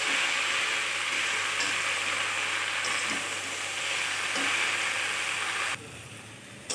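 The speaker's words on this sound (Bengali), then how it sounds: "শাকটা দিয়ে মশলার সাথে আমি ভালোভাবে নেড়ে চেড়ে মিশিয়ে নেব" Chopped water spinach (kalmi shak) is tossed with spices in hot oil, giving a loud, dense sizzle with occasional stirring knocks that suddenly drops much quieter near the end.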